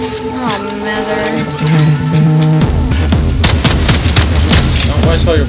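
Gunfire rattles through a chaotic Atomic Heart boss battle, dense bursts of shots layered over heavy music and loud combat noise, with occasional voices mixed in.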